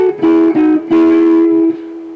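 Two electric guitars play a scale in harmonized thirds, sounding three clean sustained steps that ring out one after another and then fade away.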